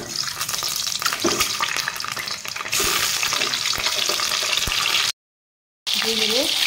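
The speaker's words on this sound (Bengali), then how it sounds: "এখন আমি ডিমগুলো ভেজে নেব।" Eggs fry in mustard oil in a wok with a loud, steady crackling hiss that briefly cuts out before resuming, and a voice speaks near the end.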